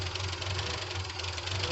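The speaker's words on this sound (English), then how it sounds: "it's just sitting there, it's idling, and it sounds almost like a sewing machine" Jeep M715 military truck engine idling at a steady, even rumble with a low throbbing pulse, close and continuous throughout, no voices.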